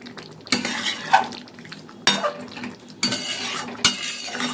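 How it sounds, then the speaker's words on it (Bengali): Chicken stirred and sautéed in a pan with fried potatoes and green chillies, a utensil scraping and clattering against the metal in four distinct bursts over a soft background sizzle. "তখন আস্তে আস্তে কষুক চিকেন।"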